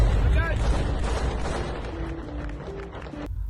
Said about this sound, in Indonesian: langsung meluncurkan rentetan tembakan ke arah UAV tersebut